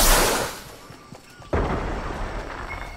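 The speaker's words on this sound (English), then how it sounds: "Oh, I heard gunfire." Gunfire in Fortnite, a battle royale video game: a loud blast opens, fades, then a second sharp crack hits midway and rings on with a rumbling tail.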